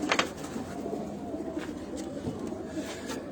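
Pigeons in a loft coo softly and repeatedly at close range, with faint background noise and occasional rustling.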